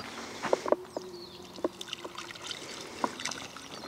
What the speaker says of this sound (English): So I'm watering it until the water starts coming through the holes in the bottom